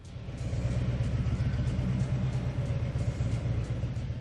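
Heavy low engine rumble from a Harley-Davidson motorcycle, steady and loud throughout with a deep pulsing throb and no voices.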